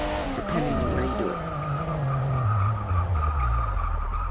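A racing car in Forza Motorsport 6 brakes hard near the finish line, its tires skidding and squealing loudly over a dropping engine note, a continuous close screech with no talk.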